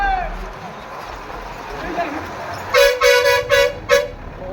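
Vehicle horns honk in a traffic jam at a busy bus stand, a run of four loud, close toots near the end over engine rumble and street noise, with a voice talking earlier.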